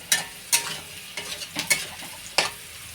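A pan of frying potatoes and carrots is stirred, giving several distinct scraping strokes over a steady soft sizzle; no one speaks.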